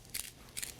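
A kitchen zester scrapes basil in two short, crisp rasping strokes about half a second apart, close and fairly quiet, with no talking.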